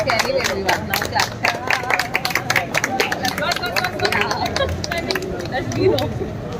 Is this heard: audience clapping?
yes